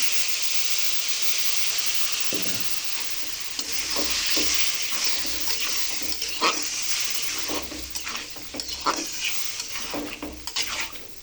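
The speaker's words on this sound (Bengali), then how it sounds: "আপনারাও এভাবে কষিয়ে নেবেন এভাবে কষিয়ে রান্না করলে তরকারিটা অনেক টেস্ট" Pumpkin and tilapia curry stir-fries in a pan, a continuous close sizzle with repeated scraping and clinking of a spatula against the pan throughout.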